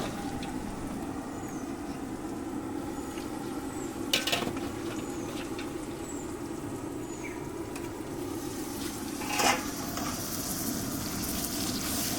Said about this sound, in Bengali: মশলা ভালোভাবে কষে গেছে, এখন মেখে রাখা মটন দিয়ে দিচ্ছি।